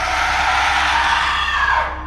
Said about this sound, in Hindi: एक चीख की आवाज़ आई